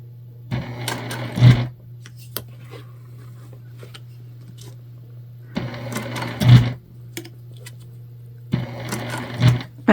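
A sewing machine stitches through the fabric of a gift bag in three short, close bursts separated by pauses, with a steady low hum running underneath throughout.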